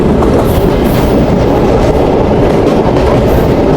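Inside a passenger train travelling from Rajshahi to Nachole, a loud, constant rumble of wheels on track runs throughout, with clickety-clack rhythm and carriage rattle and no voices.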